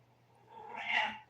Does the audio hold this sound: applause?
no